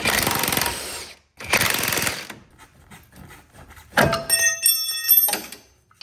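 An impact wrench works on the brake caliper of a Corvette drift car being rebuilt, giving three loud, close, rattling bursts separated by short pauses.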